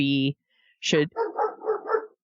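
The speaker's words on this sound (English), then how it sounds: "There goes my dog." A dog lets out a quick series of four or five sharp barks on a talk show, following a short tonal sound, with no speech over the barking.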